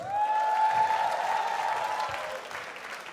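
Comedy club audience in New York cheering and applauding for a stand-up comic, a loud swell of clapping and whooping voices with a held shout on top, fading gradually.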